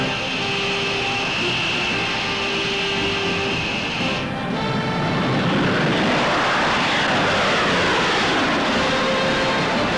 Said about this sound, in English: The scream of the jet sounding an alert to the world.